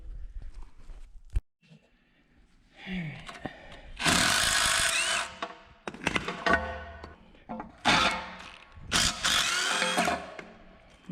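Power tool loosening 17 mm bolts on the suspension knuckle of a Datsun 240Z during a front suspension teardown: several loud, close bursts of ratcheting whir separated by short pauses and clanks, with no talking.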